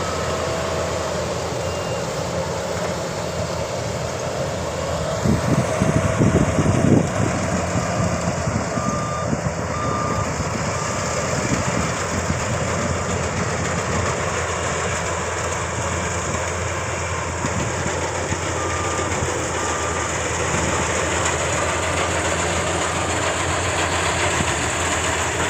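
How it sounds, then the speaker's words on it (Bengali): A harvesting machine cuts wheat in an open field. Its engine drones steadily and loudly throughout, with a repeating warning beep over it and a brief rougher surge partway through. "দেখো বন্ধু, এই মেশিনটা কত সুন্দর করে গমগুলা কেটে দিচ্ছে।"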